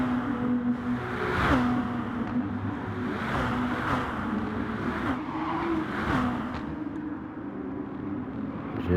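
Race cars drifting and power sliding in a sim racing game, with steady engine drone and shifting revs under a continuous mid-level roar, several cars close together.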